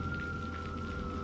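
Steady rain falls at night, a continuous hiss of drops with a faint sustained tone running beneath, quiet and unbroken throughout.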